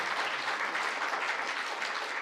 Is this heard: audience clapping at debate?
yes